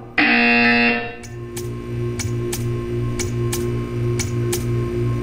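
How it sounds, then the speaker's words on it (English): Buzzer in the video game Portal 2: a loud, harsh electronic buzz for about a second, followed by a steady hum with regular ticking clicks repeating at even intervals. "You will hear a buzzer."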